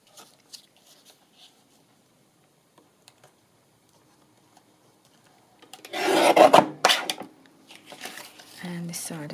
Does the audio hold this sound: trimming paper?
yes